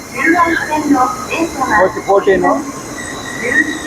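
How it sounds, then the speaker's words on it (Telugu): A bullet train rolls into a station platform in Japan with a steady rumble and faint squeal, while people talk nearby throughout. "కావాల్సిన బుల్లెట్ ట్రైన్ వచ్చేసింది."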